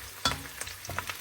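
Onion and garlic fry in a pan with a soft, steady sizzle, broken by a few sharper stirring clatters and scrapes spaced through the short stretch.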